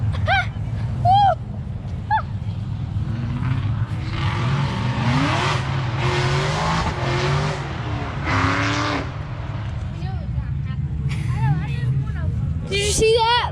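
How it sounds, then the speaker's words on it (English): Engine revving hard with broadband tire-squeal roar during a car burnout at a car gathering, loud and sustained for several seconds, with crowd chatter and cheering voices around it. "Did you see that burnout?"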